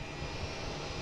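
A JetBlue Airbus A321 airliner waits for a spot with its engines running, giving a steady broadband roar with a low rumble underneath, continuous and moderately loud throughout the short stretch.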